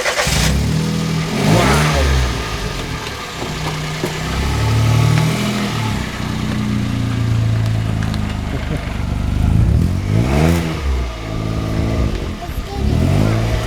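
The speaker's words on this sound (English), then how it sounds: "We're going to start up the Yaris first" A Toyota Yaris engine starts and revs outdoors, the motor rising and falling in several throttle blips at close range while people talk over it.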